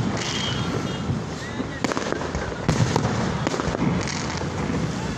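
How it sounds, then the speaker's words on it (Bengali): Fireworks festival at Hatirjheel in Dhaka, a dense crackling roar of bursts with sharper bangs rising out of it, heard from a crowd nearby with voices mixed in. "পুলিশ প্লাজা ঠিক পিছন সাইডে আতশবাজি উৎসব চলতেছে"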